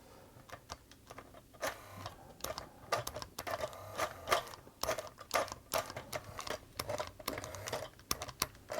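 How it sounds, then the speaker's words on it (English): Pfaff Tipmatic toy sewing machine running with its gear slipping on the shaft, a faint whirring motor broken by irregular rapid clicks and ticks, quiet and close. "Yeah, it's having trouble driving. The motor's running,"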